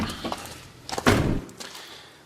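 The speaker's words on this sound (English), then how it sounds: "Close my door up." A door on a Ford Transit camper van conversion is pulled shut, giving a single close, solid thud with a short rattle, preceded by faint handling noises and fading to quiet.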